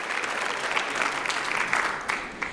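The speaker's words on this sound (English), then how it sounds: "I think she deserves another round of applause for that." Applause from a conference audience, a dense patter of many hands clapping at moderate level, tapering toward the end.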